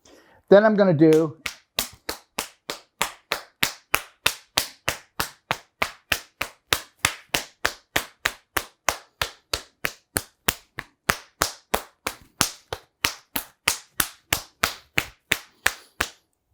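A brief voice, then a long run of sharp single hand claps at an even pace, about three per second, close and loud.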